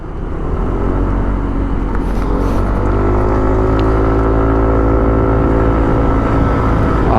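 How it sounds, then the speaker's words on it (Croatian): A Sym ADX 125 scooter accelerates uphill on a street to overtake at about half throttle, its engine note climbing steadily into a loud, close, continuous drone with no voices. "I sad recimo hoću da preteknem, dajem gas."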